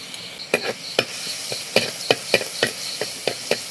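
Ginger-garlic paste sizzles in hot oil with browned fenugreek seeds, a steady soft hiss punctuated by a dozen sharp stirring clicks and scrapes of a spoon against the pan, close and moderately loud.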